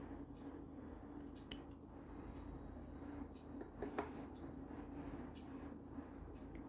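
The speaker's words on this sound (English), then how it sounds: "Now here we can cut this tail off." Scissors snip off a beading thread tail on a beaded bicone bracelet, a single faint, crisp click-snip with a couple of smaller clicks against a quiet, hum-filled room.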